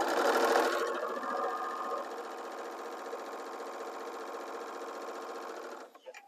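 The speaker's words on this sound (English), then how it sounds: "we're going to go ahead and sew like we are normally doing" A sewing machine stitches a fabric pattern piece in one steady, close whirring run, loudest at the start, then settling into an even hum before stopping just before the end.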